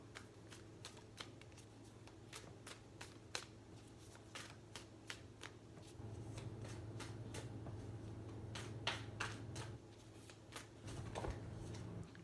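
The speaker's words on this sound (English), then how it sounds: "I'm not very good at shuffling either" Tarot cards are shuffled repeatedly at close range, a run of crisp riffling flicks over a low steady hum, with no talking.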